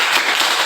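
Classroom students clap together in a loud, rhythmic salute, a dense burst of hand claps close by with two stronger accents.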